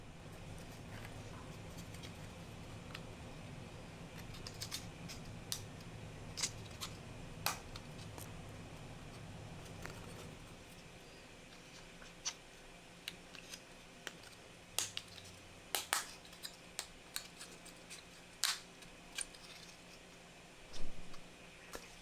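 Plastic pieces of an Intrism Icon model kit snap and click together during assembly, giving scattered faint, sharp clicks at irregular intervals over quiet background, with a cluster of louder snaps near the end.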